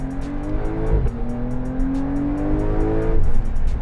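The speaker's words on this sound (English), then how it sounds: "it even has the back burbles too" A 2020 Porsche 992 Carrera engine rumbles steadily at close range, its exhaust crackling and popping in rapid bursts over the drone.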